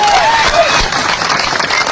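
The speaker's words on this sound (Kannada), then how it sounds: "ಈ ಜೋರಾಗಿ ಚಪ್ಪಾಳೆ ಹೊಡಿತಮ್ಮ ಅವ್ರು." A crowd claps loudly and steadily throughout, a dense wash of applause with no break, at an outdoor gathering about irrigation in Hukkeri.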